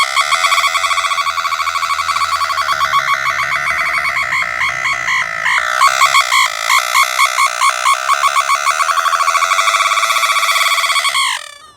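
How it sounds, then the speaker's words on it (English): A loud, shrill warbling siren tone from a handmade dynamo-powered bicycle siren, pulsing rapidly and wavering in pitch, sounding alone for about twelve seconds before cutting off. "it also has a nice handmade Siren, ready-made"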